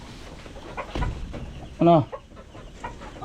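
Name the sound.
hens clucking near their nests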